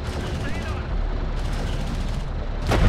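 Heavy gunfire and impacts strike an armored vehicle in the strategy game Homeworld: Deserts of Kharak, a loud continuous barrage of shots and rumbling blasts with a sharp burst near the end, a voice briefly audible.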